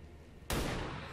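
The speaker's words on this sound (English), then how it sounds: "And then follow that right up with a regular shot from your sniper rifle" Single sniper rifle shot in XCOM 2, a sudden loud broadband blast about halfway through, following a low ambient hum and leaving a sustained rumbling tail.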